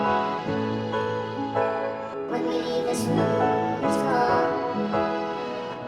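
A sampled string passage pitched up seven semitones with light reverb, from a song, plays as layered sustained chords shifting smoothly at moderate volume, with soft airy accents drifting through the wash.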